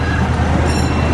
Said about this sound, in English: We're first gonna wait for the train to cross in front of us.